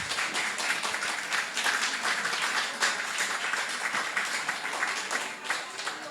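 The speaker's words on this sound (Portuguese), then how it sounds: "Palmas para Nelson." An audience at an art exhibition opening applauds the artist Nelson Sadala. Dense, sustained clapping from many hands fills the room evenly from start to finish.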